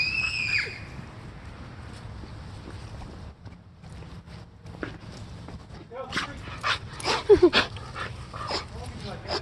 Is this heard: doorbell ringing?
no